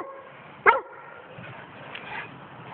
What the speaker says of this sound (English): Bark it out, girl.